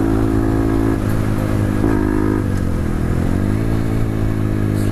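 A small Grom-style motorcycle engine accelerating hard in third gear near 90, a loud, steady buzzing drone close to the rider with slight pitch rises as it pulls, no voices.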